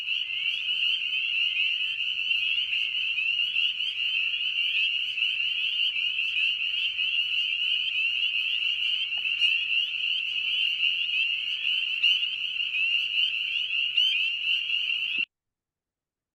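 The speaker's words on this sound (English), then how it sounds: "So next we've got the spring peeper" A dense chorus of many spring peeper frogs gives a steady, shrill high peeping that overlaps into one continuous trill, loud and unbroken, with no voices, then cuts off just before the end.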